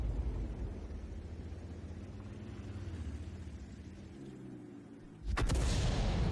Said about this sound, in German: Geht in einer schönen Explosion auf.